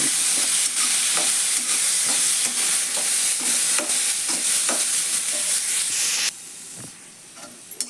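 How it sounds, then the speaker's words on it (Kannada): Green beans fry in oil in a pan for a North Karnataka–style beans palya, with a steady loud sizzle, repeated stirring scrapes, and the hiss dropping sharply near the end as the heat is cut. "ಎಣ್ಣೆ ಹಾಕ್ಕೊಟ್ಟು ಚಲೋ ತಂದು ಹುರಿಬೇಕು"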